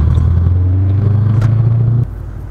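A turbocharged 3V Mustang GT engine drones loud and close with a steady low rumble while the car loses traction, then drops abruptly in level near the end.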